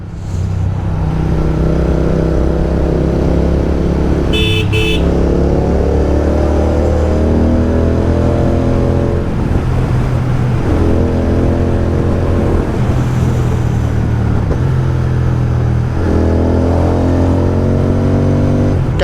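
A Royal Enfield Continental GT650 motorcycle on a foggy Sunday morning ride, its engine droning loud and steady up close, rising and falling through gear changes, with a brief horn toot near the start.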